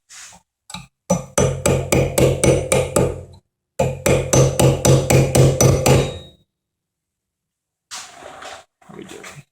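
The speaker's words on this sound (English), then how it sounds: "I'm going to keep tapping that. Get it as far as I can go." On a Wilton 8-inch 1780 vise under restoration, a hammer taps out a pin in two fast, even runs of sharp metallic strikes, about ten blows each, close and loud, with a couple of lone knocks before and scattered clunks after.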